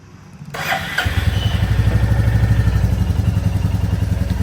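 A Royal Enfield Classic Reborn single-cylinder motorcycle fitted with a FuelX Pro Plus is started, a brief cranking whir catching into a steady, thumping idle with rhythmic exhaust pulses, close and loud.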